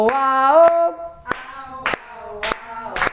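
A small group claps in unison, sharp single claps spaced roughly every half second, alternating with a group chant sung between the beats, close and clear.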